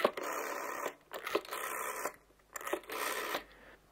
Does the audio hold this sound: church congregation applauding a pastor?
no